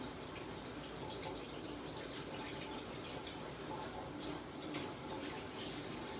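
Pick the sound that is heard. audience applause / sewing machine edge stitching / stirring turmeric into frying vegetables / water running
water running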